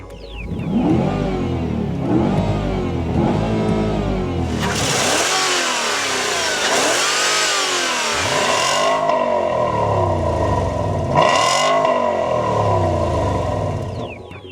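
A Volvo S80 with a Yamaha-developed 4.4-liter gasoline V8 on the road, its engine rising and falling through repeated revving gear pulls with a strong, smooth hum, then settling into a steadier cruise.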